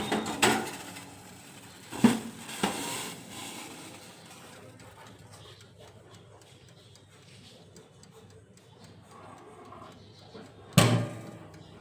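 Food goes into an OTG oven set to 200 degrees: a few sharp clanks and thuds from the door and metal tray near the start, around two seconds, and again near the end, with quiet handling noise in between.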